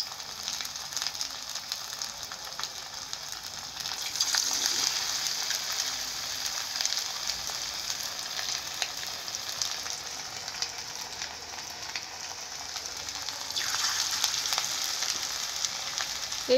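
Meat pakoras fry in hot oil over low heat, a steady close broadband sizzle with crackling that swells louder around the middle and again near the end, with no voices.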